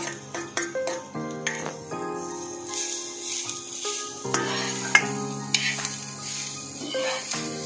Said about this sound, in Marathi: खोबरं सुद्धा आपण चांगलं लालसर होईपर्यंत भाजून घ्यायचं